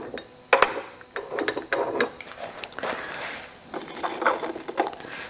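Bar stock is clamped into an Ironton dry cut metal saw, making close, irregular metallic clanks, ratcheting clicks and scraping as the clamp screw is worked, with no speech.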